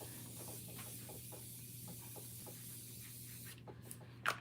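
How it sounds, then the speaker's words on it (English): Makeup setting spray misted in a few soft, hissy bursts close by, with a sharper spritz near the end, no talking over it. "we're gonna take the setting spray and we're gonna spray"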